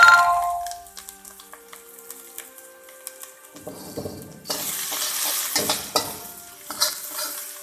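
Garlic, spring onion and coriander sizzle in hot oil in a pan, quiet crackling at first, then a louder, denser hiss after a few seconds with scraping stir strokes and clinks, and no talking.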